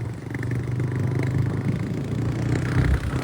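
A motorbike ridden along a road toward the Kada Dham Sati Mataji temple, its engine droning steadily and close throughout with a low rumble and road clatter, no voices.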